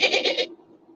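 A human voice mimics a dolphin call but comes out as a goat-like bleat, a short wavering burst of about four pulses, loud and close, trailing into quiet.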